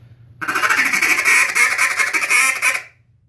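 An acrylic duck call blown close and loud in one long, sustained series of raspy quacks lasting about two and a half seconds, then stopping.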